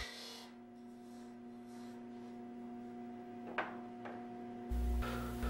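A lathe scraper tool makes a scraping cut along the sidewall of a turned wooden box, giving a steady rasping hiss with a steady motor hum beneath, a couple of brief sharper scrapes near the end and a louder burst at the close.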